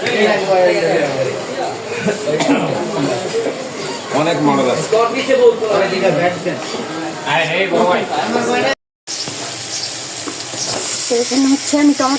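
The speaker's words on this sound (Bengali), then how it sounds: "মাছ রান্না করতেছি" Fish sizzles and crackles in a hot pan in a home kitchen, a steady frying hiss with stirring scrapes, heard under someone talking almost continuously, with a brief cut near the end.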